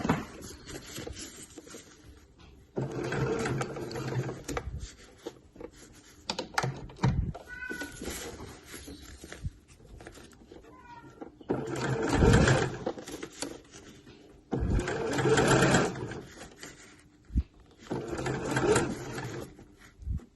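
Domestic sewing machine stitching around the edge of a slouch bag in bursts, a close, steady motorised whir that starts and stops several times with brief pauses and small handling clicks between runs.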